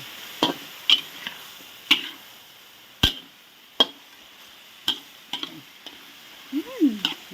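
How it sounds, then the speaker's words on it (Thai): Long beans being stir-fried in a hot pan for Thai chicken pad kra pao: a faint sizzle under repeated sharp scrapes and clacks of a spatula, irregular and close. "เทถั่วลงเลยผัดไปกัน"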